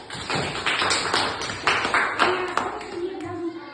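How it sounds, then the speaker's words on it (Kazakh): A brief burst of clapping from a group of fifth-grade pupils in a maths classroom, a few seconds of scattered hand claps in a room, fading out at the end. "Жақсы, қол шапалақтап қояйық"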